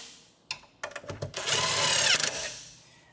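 Ratcheting and clicking as 10mm nuts are tightened on the battery hold-down strap of a 2010-2015 Toyota Prius, a few sharp metallic clicks followed by a steady close, fairly loud whirring run of about a second.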